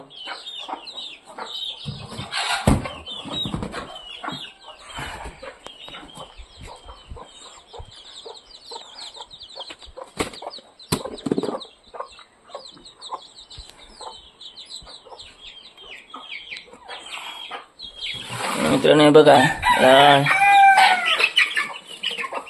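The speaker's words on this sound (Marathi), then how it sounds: "हे दोन कोंबडे" Chickens cluck steadily nearby while roosters crow; someone speaks briefly, and a louder burst of crowing and squawking rises near the end.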